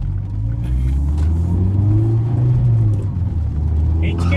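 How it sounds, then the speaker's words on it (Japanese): A red 2016 Mazda Roadster 1.5 RS with a six-speed manual and an aftermarket muffler is driven along. Its low, steady exhaust rumble runs throughout beneath someone talking. "H ケースのマフラーが入ってるんですけど、適度な音量でいいですね、こう走らしてる感が出ますね。"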